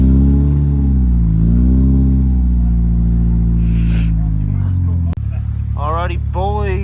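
A Mitsubishi Evo on a test drive at dusk gives off a loud, close engine drone that rises and falls in pitch. A brief sharp knock follows, then a voice speaks over the running engine.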